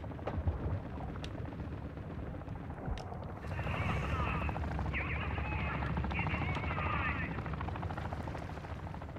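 Helicopter in the Call of Duty DMZ video game, a low thudding rotor rumble that swells louder midway and holds steady, with occasional sharp bursts overhead.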